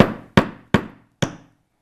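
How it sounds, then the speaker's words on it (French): Four sharp hammer taps drive a small nail into wood, each a crisp, close knock with a short ring, spaced unevenly about a third to half a second apart before silence. "on va donner des petits coups dans un premier temps pour fixer le petit clou"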